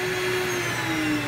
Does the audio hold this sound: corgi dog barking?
no